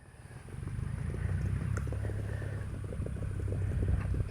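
A tractor engine runs steadily outdoors in a garden setting, a continuous low rumble with faint knocking pulses holding at moderate volume throughout.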